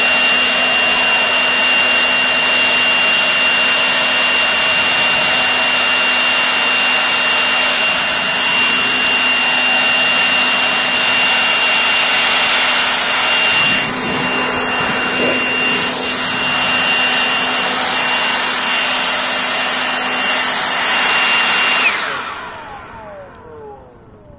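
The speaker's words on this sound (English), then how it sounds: "That's the power of the newest blower from Craftsman, guys." A Craftsman CMCBL730P1 leaf blower, a 5-amp corded model, runs at a steady, loud roar for about 22 seconds, then winds down and cuts off near the end.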